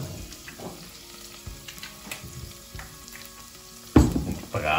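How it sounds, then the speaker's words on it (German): Onion frying in oil in a pot, a steady hissing sizzle with light stirring scrapes, growing louder near the end as the pieces are moved around. "Und braten den Zwiebel goldbraun an"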